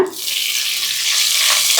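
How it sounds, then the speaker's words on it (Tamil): Cut okra fries in hot oil in a pan for mor kulambu, a steady, loud, close sizzle that hisses evenly throughout without any talking. "ஃபஸ்ட்டு எண்ணெய் ஊற்றி வெண்டைக்காவை வதக்கி எடுத்துக்கலாம்."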